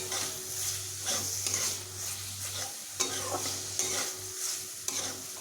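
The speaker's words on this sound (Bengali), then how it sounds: "ছানা দেবার পরে আরও একটুক্ষণ ভালোভাবে কষিয়ে নিতে হবে" Chhana (cottage cheese) and spices stir-fried in a pan for a yardlong bean recipe: a steady close sizzle under repeated scraping strokes of a spatula, with no talking.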